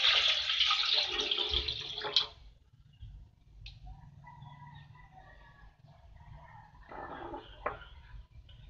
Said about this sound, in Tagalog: Ilagay natin yung isang mangkok na tubig.